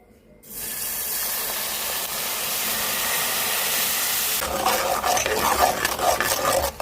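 A sudden loud sizzling hiss starts as half a cup of water hits a hot pan while making cocoa candy, holding steady before breaking into bubbling crackles.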